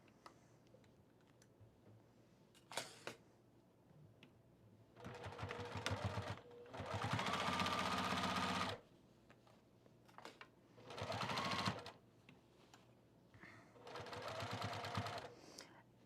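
A sewing machine stitches around an overalls pocket in quiet bursts, several runs of steady whirring lasting one to three seconds each, separated by pauses with small clicks and handling noises.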